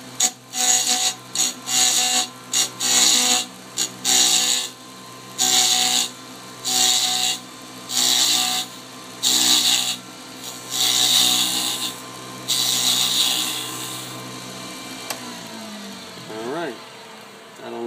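Wood being turned on a lathe to make a ring, heard as a series of short rasping cuts with brief pauses, close and fairly loud over a steady motor hum that winds down near the end.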